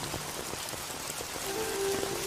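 Heavy rain pours steadily onto surfaces in a dense, continuous hiss with scattered drop patter, joined near the end by a faint sustained tonal hum.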